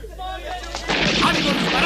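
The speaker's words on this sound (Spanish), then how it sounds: "¡Cuidado! ¡Nos disparan desde la catedral!" Gunfire from a cathedral during a street uprising in 1848 Milan in a period film, a sudden loud volley breaking in after a brief shouted warning.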